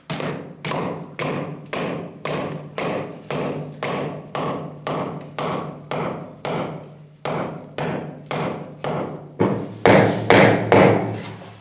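Repeated sharp metal hammer blows drive iron wedges into a stone slab to split it during well construction, about fifteen evenly spaced thuds close by, growing louder and denser toward the end.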